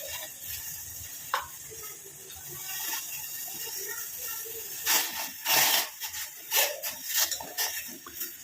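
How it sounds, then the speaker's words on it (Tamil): A henna leaf mixture boils steadily in a pot, giving a continuous fizzing, bubbling hiss with louder crackling bursts toward the end, close and fairly quiet. "நல்லா கொதிக்கட்டும்."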